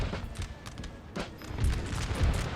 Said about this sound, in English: the 12 gun battery is now opening fire upon us